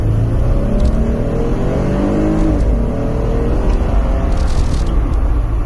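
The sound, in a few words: Jeep Wrangler JL V6 accelerating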